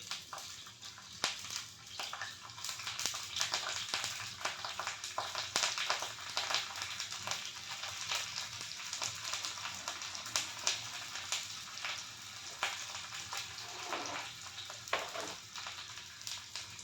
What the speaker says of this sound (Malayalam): വെളിച്ചെണ്ണയാണ് ഒഴിച്ചിട്ടത് കേട്ടോ. കറിവേപ്പില ഇട്ടു.